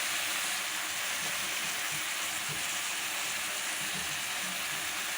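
Country chicken curry sautés in a pan, giving a steady, dense hiss of frying with faint stirring movements underneath and no voices.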